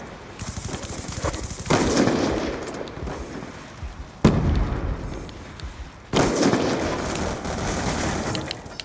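Bombs blasting in a free-for-all video game, three loud bursts of noisy explosion and crackling gunfire-like rattle that swell and hold, each new blast starting sharply, with no talk.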